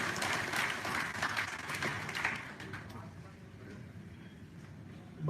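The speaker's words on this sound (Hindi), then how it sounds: "अनेक तालियों से स्वागत।" Hall audience at a bamboo conclave in Bihar applauds to welcome Deputy Chief Minister Sushil Kumar Modi, a thick burst of clapping that gradually fades into softer scattered claps and room murmur.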